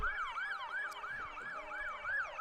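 An emergency vehicle siren wails steadily in a rising and falling pattern, loud and continuous, with faint traffic rumble underneath, during a first responders' salute to healthcare workers in Oxnard.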